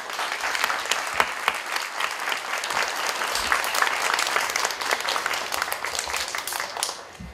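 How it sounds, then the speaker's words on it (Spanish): A theatre audience in Villa El Salvador gives sustained, loud applause for a visiting Colombian theatre troupe, dense clapping from a large crowd that holds steady throughout before starting to thin at the end. "Recibámoslo con un fuerte aplauso."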